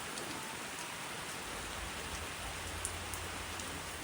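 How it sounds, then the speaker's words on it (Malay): Steady rain falling on surfaces, an even patter with occasional distinct drops, continuing quietly without pause. "Masih hujan tapi macam dah reda sikit berbanding tadi."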